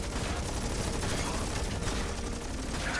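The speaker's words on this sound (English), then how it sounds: "These Vulcans here, shredding the bobs for blue." Vulcan units firing in the Stormgate real-time strategy game, a dense, continuous roar of rapid gunfire layered with battle noise, loud and steady throughout without pause.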